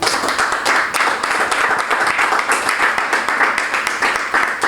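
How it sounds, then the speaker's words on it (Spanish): A church congregation at a communion service claps together as an offering, a steady, fairly loud wash of many hands sustained for several seconds with no talking over it. "¿Cuántos le pueden dar una ofrenda de palmas?"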